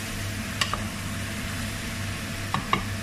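Spicy chicken with turmeric being stir-fried in a pan, a soft steady sizzle with a few sharp clinks of a utensil against the pan near the start and end.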